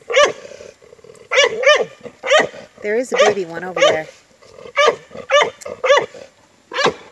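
Dog barks out on a homestead where chickens are kept: short sharp barks in bursts spread across the clip, with a rougher drawn-out growling stretch in the middle, while someone talks in between.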